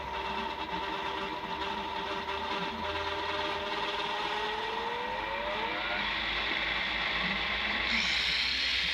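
A homemade machine tool, rigged to re-cut a pulley without a lathe, whirs steadily as it runs up to speed. A rising tonal whine with mechanical rattling sits close and continuous throughout.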